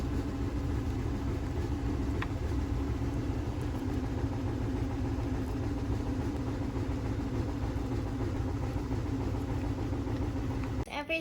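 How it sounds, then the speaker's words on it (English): Washing machine running through a laundry load in a home while cookies are being mixed, a constant low mechanical rumble and hum held throughout in the background, with no talking. "I'm so sorry for the noise because I'm actually doing laundry at the same time."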